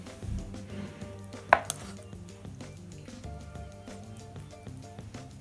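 A knife slices food into thin pieces for deep frying while vegan Thai dishes are prepared, producing a quick, steady series of close taps against a cutting board.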